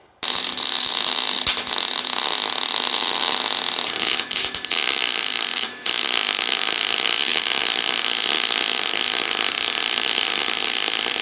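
Welding a windshield channel on a 1968 Pontiac GTO A-body for a shaved, flush front windshield: a steady, loud crackling hiss runs continuously throughout, with a couple of brief dips where the arc pauses.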